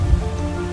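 Steady rain falls on a surface, a continuous dense patter with a low rumbling hiss underneath, no voices.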